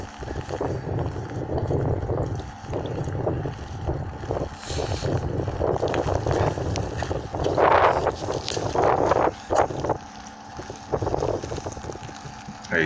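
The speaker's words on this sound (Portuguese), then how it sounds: "Tava ventando muito aquele dia." Strong wind buffets the microphone at the Pompeii ruins, a continuous loud roaring rumble with gusty surges, and faint voices underneath.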